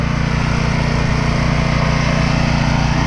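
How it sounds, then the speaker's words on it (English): A mower cuts down tall canary grass on an island restoration site, its engine droning loud, close and steady the whole time with a constant rumbling tone and no pauses. "What we are mowing is we're mowing down the canary grass."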